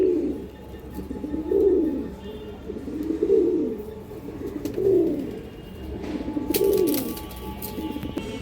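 Pigeons of old breeds at a pigeon farm coo in slow, repeated rolling phrases, close and clear, with about five evenly spaced coos and a brief clatter near the end.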